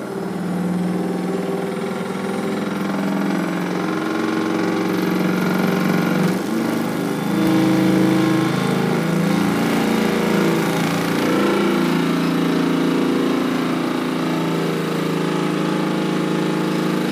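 Powerful Hypervibe vibration plate machine set to 28 hertz, giving a steady, loud mechanical hum and rattle that runs unbroken throughout, with slight swells in intensity and no talking.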